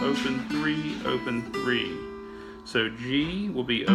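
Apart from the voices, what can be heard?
None of the usual background noises is heard.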